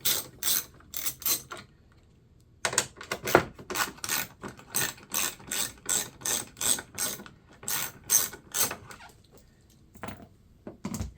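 A ratchet loosens 10mm bolts on a 2019 Toyota RAV4 (XA50) during a turn signal bulb swap, sharp rhythmic clicking in quick bursts of strokes with short pauses, close and loud.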